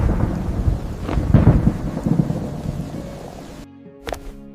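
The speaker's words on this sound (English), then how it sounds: "Your cat feels the storm before it hits." Thunderstorm with heavy rolling thunder over steady rain, loud and close at first, rumbling in waves before fading, with a brief sharp crack near the end.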